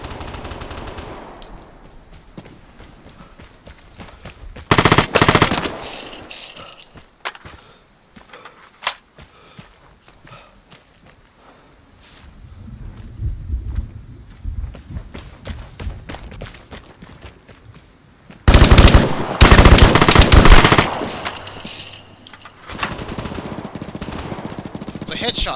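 Uzi submachine gun fire in the survival shooter Vigor comes as two loud, rapid bursts, one brief and one longer, separated by quieter shuffling movement and rustle.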